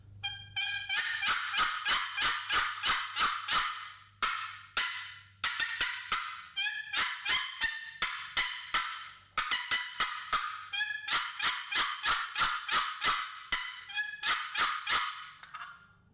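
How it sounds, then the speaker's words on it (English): Turkey hunting box call played loudly outdoors, producing rapid rhythmic series of sharp, raspy hen-like yelps in several bursts with brief pauses between runs, close and piercing. "Really loud box call, that's what I'm looking for when I'm using it."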